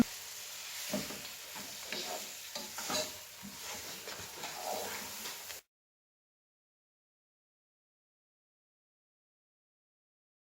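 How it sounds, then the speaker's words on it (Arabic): Couscous sauce ingredients with coriander and parsley are stirred in a pot, giving a soft scraping and sizzling hiss over a few seconds, faint and close, before the sound cuts to silence. "وكنزيدوا القزبر والمعدنوس، وكنحركوا وكنحركوا المكونات كلها"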